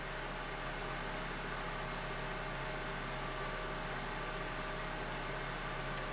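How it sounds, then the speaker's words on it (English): A car engine idling during a scanner cooling-fan and live-data test, a faint, steady low hum with broadband fan-like noise throughout and one tiny click near the end, with no talking. "I've got the car running right now"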